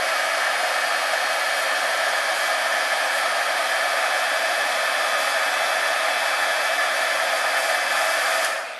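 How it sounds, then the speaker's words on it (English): A heat gun blows hot air over Scor-Tape adhesive in a steady, loud, continuous whoosh, like a hair dryer, running alone for nearly nine seconds before cutting off at the end. "I just go over it a little bit with my heat gun"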